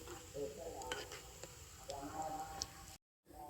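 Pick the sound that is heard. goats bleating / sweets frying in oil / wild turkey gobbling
sweets frying in oil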